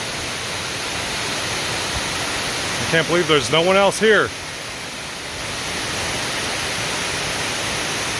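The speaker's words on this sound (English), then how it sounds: "This one is called King Creek Falls. That is a majestic waterfall." King Creek Falls waterfall heard as a steady broadband rush filling the whole clip, with a person speaking briefly over it midway.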